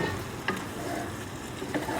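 Chicken sizzles loudly in a frying pan with cooked tomato and rosemary for a low-carb adobo, with a constant frying hiss and a few scraping stirs of a utensil.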